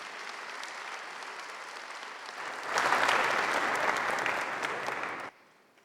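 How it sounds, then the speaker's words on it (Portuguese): A conference audience applauds to welcome a speaker, dense steady clapping that swells midway, then cuts off sharply near the end. "Vamos receber Israel Belo de Azevedo com a salva de palmas"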